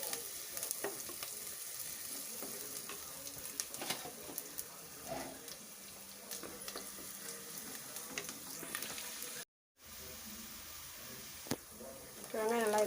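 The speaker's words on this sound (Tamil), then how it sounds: "இது வெங்காயம் நல்லா ட்ரையாக ப்ரௌன் கலர் ஆகணும்." Onions sauté in oil in a pan for masala chicken, a steady sizzle with occasional stirring scrapes, continuing close up for several seconds before briefly cutting out.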